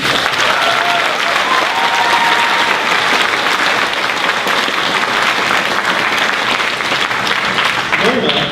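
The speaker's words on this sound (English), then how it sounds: "Give a round of applause for her." An audience applauds an Ohio Teacher of the Year award recipient, with continuous dense clapping filling the room for several seconds and faint cheering and voices mixed underneath.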